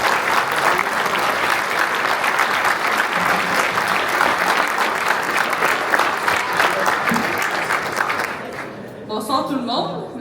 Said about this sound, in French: c'est une personne très engagée dans son milieu qui mérite une bonne main d'applaudissement